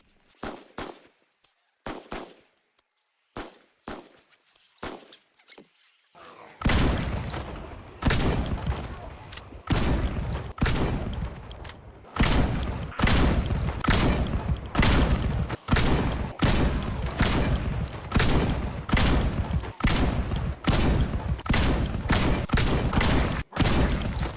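Video game gunfire in Project Zomboid: scattered single shots at first, then a long dense barrage of rapid repeated shots, loud and close, with some talking mixed in.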